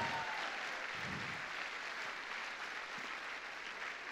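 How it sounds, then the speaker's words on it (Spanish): Applause from a church congregation, steady dense clapping throughout, fairly loud and continuous with no talk over it. "Fuerte ese aplauso al Cristo de la gloria."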